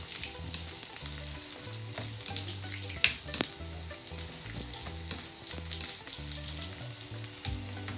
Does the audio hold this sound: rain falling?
no